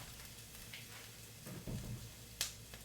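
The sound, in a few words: sautéing leftover tri tip in a pan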